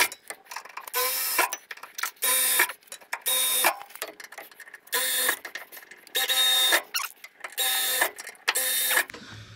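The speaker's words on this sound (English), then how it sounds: "we got our pilot holes drilled" An electric drill bores pilot holes into center-punched metal on a budget car build. It sounds as a series of about nine short, whining bursts with brief pauses between them, close and fairly quiet.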